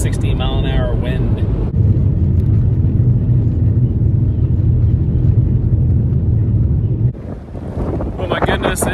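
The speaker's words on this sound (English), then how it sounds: "This is what it's like driving through West Texas when it's 60 mile an hour wind." Heavy 60 mph wind in West Texas roars and buffets against a moving vehicle, a loud continuous rush with low rumble, easing briefly near the end.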